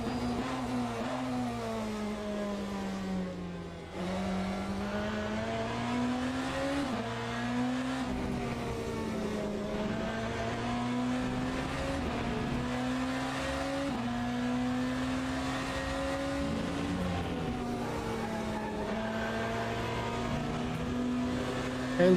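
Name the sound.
BMW race car driving in video game Le Mans Ultimate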